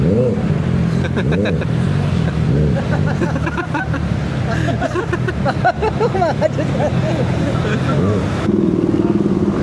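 Honda CB650R motorcycle engine running and revving at a Honda dealership anniversary event, loud and close, with rising and falling revs over a steady babble of crowd voices.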